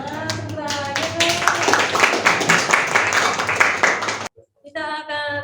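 Classroom students clap together after a social drama performance, a dense run of many hands that ends abruptly, followed by a brief pause and then a few more scattered claps, with children's voices mixed in.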